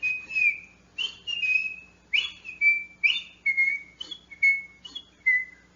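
A human voice whistles a series of about eight short, bright two-note calls, each sliding downward, spaced evenly in a lively rhythm, imitating the whistle of a white-faced whistling duck in Brazil.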